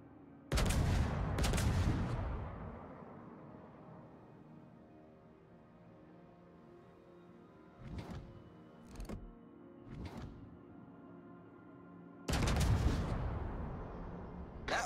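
Heavy battleship guns of the Tier 8 USS Kansas fire in World of Warships, loud booming salvos at the start and end with smaller thuds between, over a low rumbling background.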